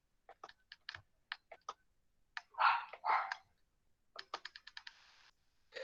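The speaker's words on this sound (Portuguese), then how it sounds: "Desculpa, é o cachorro latindo." A dog barks twice, muffled and somewhat distant, in a home office, with bursts of computer keyboard typing and clicking before and after.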